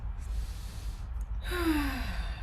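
A deep abdominal breath during a relaxation exercise: a soft, close inhale followed by a longer, breathy exhale, with no speech over it.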